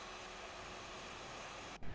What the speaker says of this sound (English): right engine's going, so start the left